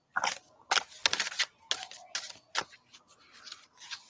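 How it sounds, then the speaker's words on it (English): A deck of cards being shuffled up close, several quick crisp riffling bursts with short gaps in between, with no talking. "I'm shuffling the wrong deck"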